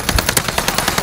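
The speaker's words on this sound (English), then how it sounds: "Somebody shooting, though." Rapid gunfire in a video game crackles in a quick, regular burst of shots, loud and close, with no talking over it.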